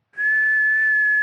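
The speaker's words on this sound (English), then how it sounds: "Yes, that deserves all the whistles." A single clear whistle rises quickly to one long, steady, high note and holds it loudly to the end.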